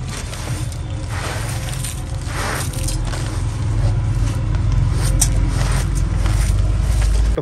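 A heavy diesel engine of a JCB 3DX Plus backhoe loader idles steadily with a deep, constant rumble, close by, with occasional clicks and scrapes on top.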